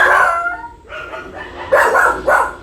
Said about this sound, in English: And the dog for some reason is barking